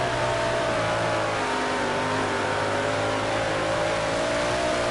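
A race car in iRacing accelerates on the Lernerville Speedway dirt oval during a qualifying lap, a loud continuous engine drone with a steady pitch and harmonic whine holding throughout, no talk over it.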